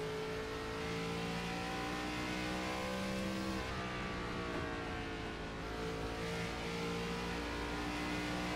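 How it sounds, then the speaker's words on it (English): Onboard race car engine on a qualifying lap at Bristol, a steady loud harmonic roar that holds its pitch, dips slightly midway, then climbs again as the car pulls around the short oval. "Important qualifying run for this 49 car as he goes ahead and takes the green flag right here."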